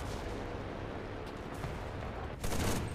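A machine gun fires in the World War II shooter Enlisted, a dense, continuous rattle of gunfire that holds steady throughout, with a louder burst of shots near the end and no talk.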